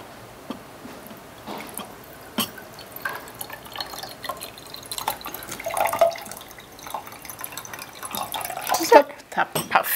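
Water poured from a container into a vessel lined with paper during a hands-on colour science demonstration, heard as intermittent splashy trickles and drips at close range, with people talking in Swedish throughout.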